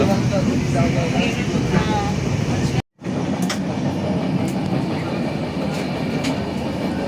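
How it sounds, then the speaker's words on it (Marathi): A train from Mumbai to Ratnagiri, departing Thane, rumbles steadily along the tracks nearby, a loud continuous roar with faint rhythmic clatter and a short dropout partway through. "बघा आपली ट्रेन सुटली आता ठाण्यावरून"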